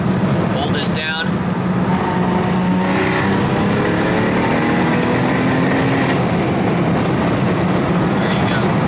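A single-turbo BMW F80 M3 with anti-lag pulls hard in fourth gear, its engine note rising steadily in pitch as it accelerates, loud and close from inside the car, with a brief voice near the start.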